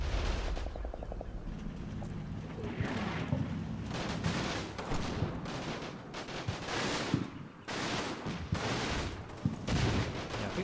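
Sustained World War II game battle gunfire in Italy: dense overlapping rifle and machine-gun fire with heavy booming blasts, loud and continuous throughout with no talking.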